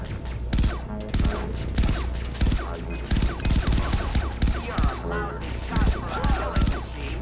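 Gunfire in the shooter Far Cry 3: Blood Dragon, rapid repeated shots in steady bursts with a low thump under each, heard alongside someone talking.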